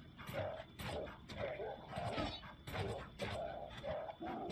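A dog in the fantasy video game Neverwinter gives a steady series of rhythmic barks and yips, repeating about once every half second at moderate volume.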